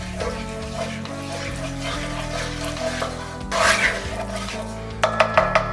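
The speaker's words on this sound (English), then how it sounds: "we need to keep stirring." Milk being stirred into a pan of bechamel sauce, giving a soft, continuous scraping and swishing with liquid splashes and a few sharper utensil clinks near the end.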